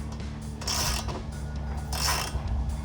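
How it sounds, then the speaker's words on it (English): Ratchet on a 13mm socket tightening strut tower brace bolts on a 2015-2023 V8 HEMI Dodge Charger, two close bursts of rapid clicking separated by a pause, over a steady low hum. "now we're just going to take our 13mm socket"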